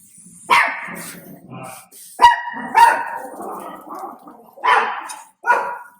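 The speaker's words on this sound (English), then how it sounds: "my dogs are all spooked here because I'm doing pumpkins" Several dogs bark in short, loud bursts indoors, spooked while pumpkins are being drawn for Halloween art, with scattered yips and a low growl between the barks and a faint voice underneath.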